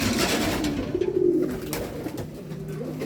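A racing pigeon coos near the loft, with soft, low, throaty rolling calls that swell and fade over a few seconds. Nearby flapping and background noise come through, and no one speaks.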